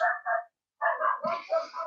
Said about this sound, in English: So I'll just let my dog stop barking.